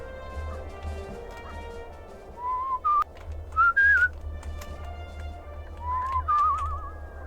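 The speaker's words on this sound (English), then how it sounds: "I still don't know how this whistling works." A character whistles in the video game Where the Water Tastes Like Wine, several short melodic phrases rising and warbling over a quiet, low ambient game backdrop, with louder bursts near the middle and end.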